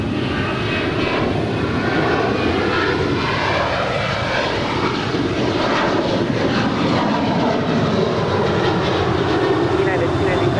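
A jet airliner, American Airlines flight 171, lands on runway 25 left at Los Angeles International Airport, its engines giving a steady loud roar with broad rumbling noise that holds through the whole stretch.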